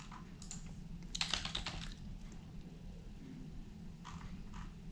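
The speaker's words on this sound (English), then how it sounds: "You can type in the different fields." Light, quick keystrokes on a computer keyboard while filling in fields on a crime lab submission form, arriving as a brief cluster of taps followed by a few more isolated presses over a low background hum.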